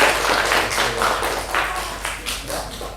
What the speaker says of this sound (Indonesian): Tepuk tangan untuk kelompok 2, ya.